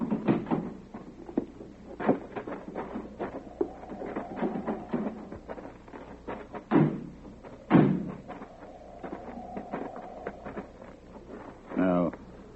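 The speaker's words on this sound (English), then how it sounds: "Open the door." A door opened in an old radio suspense drama, a few wooden thumps and a latch clack amid tense dialogue and a brief musical sting.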